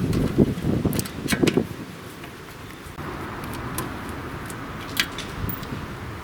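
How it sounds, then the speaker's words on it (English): Steady wind noise buffeting outdoors, with gusty rustling and a few sharp knocks, no speech. "It's getting windy here, guys."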